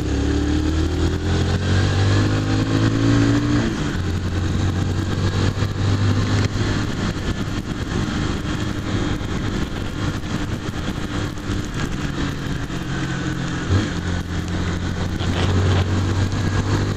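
A motorcycle engine drones steadily throughout a ride in changeable weather, loud and close, with shifting engine tones as the rider speeds up and eases off, amid road and wind noise.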